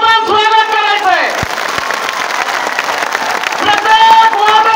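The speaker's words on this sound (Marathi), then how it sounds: "मनोज जरांगे पाटलांचं प्रचंड टाळ्या वाजून आपण स्वागत करायचंय" A large rally crowd at Narayangad claps and cheers to welcome Manoj Jarange Patil, a broad wash of applause swelling in the middle between stretches of an amplified announcer's voice.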